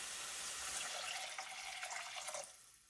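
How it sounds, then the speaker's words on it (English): Two cups of water pouring into a pan of chopped cucumbers, a soft continuous splashing, trickling flow that tapers off toward the end, quiet and alone. "I'm going to add 2 cups of water"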